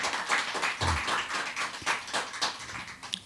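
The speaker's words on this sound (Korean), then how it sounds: "우리 맞이할 때 큰 박수로 우리 환영해 주시기 바랍니다" A church congregation at a Sunday family worship service applauds to welcome new members, a soft, scattered patter of hand claps with uneven spacing, fairly faint, and no talk over it.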